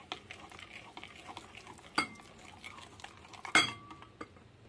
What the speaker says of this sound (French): Je mélange avec le potiron, il est encore chaud